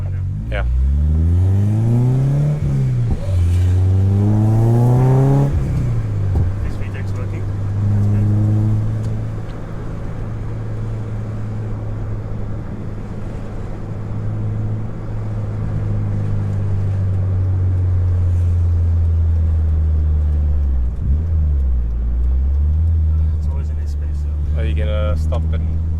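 A 16-valve turbo Mk2 race car engine climbs in pitch under full throttle, revving hard for several seconds before settling into a loud, steady droning pull inside the cabin, with voices talking over it.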